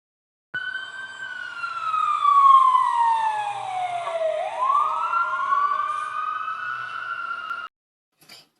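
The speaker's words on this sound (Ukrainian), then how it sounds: "Так, пожежна машина." A loud fire engine siren wails close by, sweeping down and then back up in pitch before cutting off abruptly.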